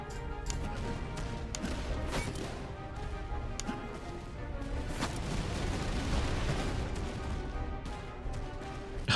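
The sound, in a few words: artillery fire in a video game battle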